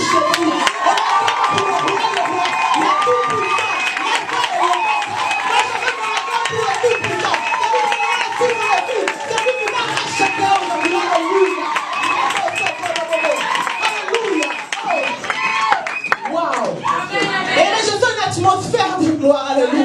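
A church youth conference crowd cheers and claps steadily for Jesus, a dense, loud wall of applause and shouts running throughout, with voices calling out over it.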